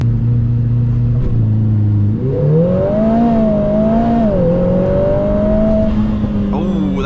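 A Lotus Emira Turbo SE sports car (400 hp, mid-engine, rear-wheel drive) roars up through the revs as it accelerates hard, pitch climbing steadily, loud and close throughout.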